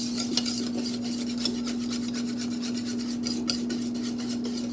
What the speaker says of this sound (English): you're just going to whisk it in till you don't see any more powdered sugar